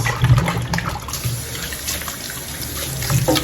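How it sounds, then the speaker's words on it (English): Tap water runs steadily over food being rinsed in a sink while preparing Jamaican-style brown stew tilapia, a close, continuous splashing rush with no talk. "Rinse off this stuff."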